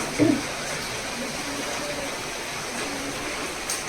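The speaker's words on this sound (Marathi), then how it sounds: "आता मी हे जे पाणी जे गरम केले तापवले ते आपण त्यात ॲड करूया" Heated water pours steadily into frying dal in a pot, a continuous splashing rush that holds at an even level for a few seconds.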